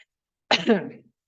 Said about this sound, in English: That always makes me need to clear my throat.